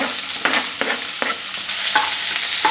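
Green chillies and chopped onion frying in oil in a pan, a steady sizzle broken by several sharp clattering stirs of a spoon against the pan, close and fairly loud, with no voices.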